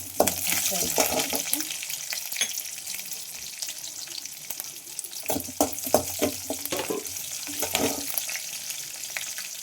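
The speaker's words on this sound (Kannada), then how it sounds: "ಒಣಮೆಣಸಿನ್ಕಾಯಿ, ಹಸಿಮೆಣಸಿನ್ಕಾಯಿ ಪರಿಮಳಕ್ಕಾಗಿ, ಚಟಪಟ ಅಂತ ಶಬ್ದ ಬರುತ್ತಲ್ಲ" Urad dal with dried and green chillies crackling and sizzling in hot tempering oil, a steady close frying hiss with bursts of sharp popping and stirring, no voices.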